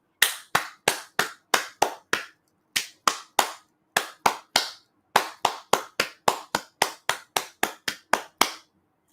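Hand clapping a song's rhythm, about thirty sharp claps in short groups with brief pauses between phrases, close and loud with no talking.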